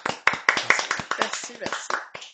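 Two hands clap in a quick, steady run of sharp, close claps, loud and evenly spaced, with a little voiced sound mixed in among them.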